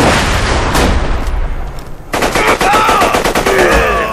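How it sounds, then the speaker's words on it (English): Loud, rapid automatic gunfire from the Borderlands 2 video game rattles in dense bursts with a brief lull midway, mixed with game effects and occasional voice. "Shoot him! Shoot him!"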